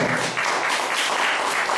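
Dense, loud audience applause fills a music show as a singer is introduced, a continuous wash of many hands clapping close by.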